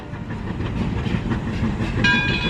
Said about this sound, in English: Now if you watch carefully, you'll see a monorail in just a second.